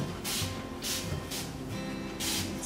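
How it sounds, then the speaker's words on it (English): Several short bursts of hissing spray from a bottle of Koh cleaner onto a dish drainer, evenly spaced with brief pauses between, close by. "Quite a generous spray"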